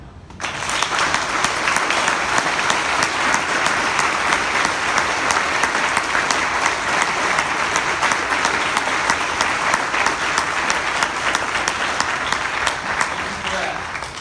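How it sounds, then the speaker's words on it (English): A memorial gathering's audience breaks into sustained, full applause in honour of a late mother named Mary, the clapping thick, even and unbroken for over ten seconds before trailing off. "if Mary made you feel special, please clap right now"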